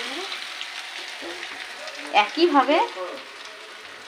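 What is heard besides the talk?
frying semolina snacks in a pan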